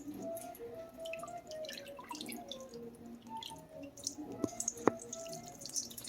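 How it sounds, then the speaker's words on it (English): Whey from goat milk curds drips into and through a colander, a quiet, close, irregular patter of small drops and light splashes over a faint background. "put them into the colander so they can start to drain"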